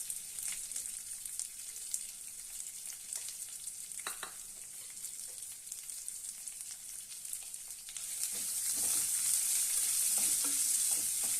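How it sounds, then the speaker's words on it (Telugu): Indian gooseberries (amla) frying in a pan for a gooseberry pickle, a steady close sizzle that swells louder near the end, with a few faint scrapes. "ఇవి కూడా ఇందులో వేసి వేయించుకోవాలి"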